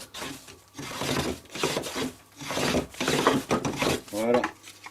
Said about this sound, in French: je vais passer mon tournevis à l'intérieur